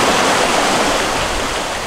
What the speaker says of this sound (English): the wind picked up not too much, but the waves, they picked up quite a lot